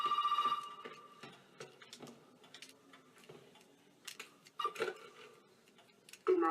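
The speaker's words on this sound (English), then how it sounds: "Oh, phone call. Where is it?" Telephone ringing in the horror video game Resident Evil 7, with several short electronic ring bursts spaced through a quiet, faint background, no talking.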